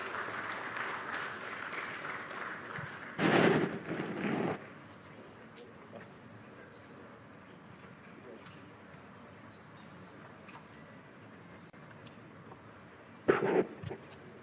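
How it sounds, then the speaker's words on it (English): Audience applause at a retail congress presentation, breaking out in two short bursts: a brief clap at the start and a second brief burst near the end, with low room noise between. "A round of applause for Ugo Obichukwu."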